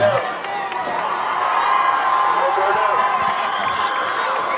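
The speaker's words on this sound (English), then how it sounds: "the Raider crowd coming alive for 3rd down" A high school football crowd of Raiders fans cheers and roars for a third-down play, a sustained loud wall of voices and whoops throughout, with a stadium announcer talking over it.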